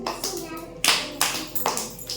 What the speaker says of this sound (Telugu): క్లాప్ కొట్టండి ఒకసారి